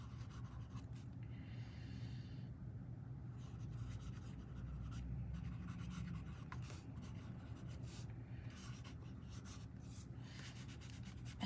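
Steady pen or pencil scratching on paper as loose strokes are written out, a continuous close scribbling texture running the whole time with no talk.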